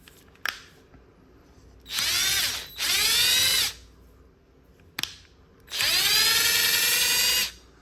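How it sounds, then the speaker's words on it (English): Power drill tapping threads into a plastic workpiece: two pairs of loud, whining bursts, each rising in pitch as the motor spins up, separated by brief pauses and sharp clicks, close and without talk. "And then we're gonna tap it with the threads on there."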